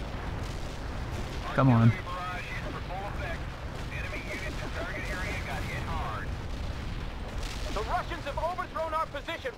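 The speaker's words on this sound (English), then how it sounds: "Heavy artillery barrage inbound." Heavy artillery barrage in the strategy game World in Conflict, rumbling booms and bursts of fire beneath radio chatter and shouted voices, with a loud hit near the two-second mark.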